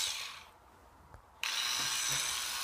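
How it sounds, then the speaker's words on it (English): A rotary grinder fitted with a 4mm bit runs at lowish RPM, enlarging a hole in a Tamiya Mini 4WD VS chassis. A steady high whine cuts out briefly, then resumes loud and close with no talking. "by using a grinder"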